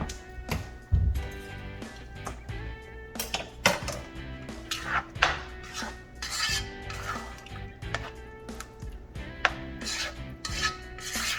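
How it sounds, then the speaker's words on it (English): A spoon stirring seafood etouffee in a metal pot, close and busy, with repeated scraping, clinking and tapping against the pot sides in an irregular rhythm. "Switch spoon so it's not as noisy."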